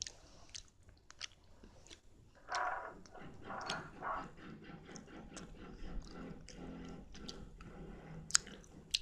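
Soft, wet chewing and squishing of yogurt-coated nerunerune jelly candy, close and quiet, with irregular bites and mouth sounds and no talking.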